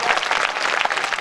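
Audience applause at a Hindi comic poetry recital, a dense, steady burst of clapping filling the whole brief moment.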